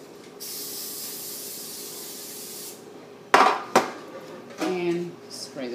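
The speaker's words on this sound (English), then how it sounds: "I'm going to go ahead and spray this down." Vegetable oil cooking spray hisses steadily into a cake pan for about two seconds, followed by sharp metallic clatters as the pan is handled, all close and fairly quiet.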